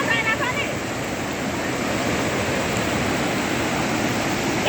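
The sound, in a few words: cold stream water flowing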